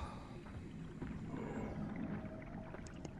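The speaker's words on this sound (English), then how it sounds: "Fucking whales." Deep, moaning whale calls from the underwater video game SOMA rise over a constant low rumbling ambience, with faint higher tones near the end.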